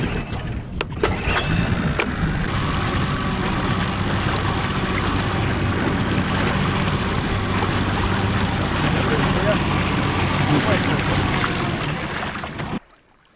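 An outboard motor, about 30 hp, runs steadily on a raised Progress-2 boat on a river, a loud continuous drone throughout that stops abruptly near the end, with people talking under it.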